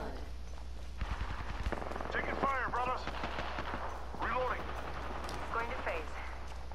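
Gunfire in the video game Apex Legends crackles in short bursts of rapid shots amid chirping game effects, moderately loud with a steady background hum.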